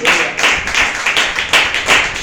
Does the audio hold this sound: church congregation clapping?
yes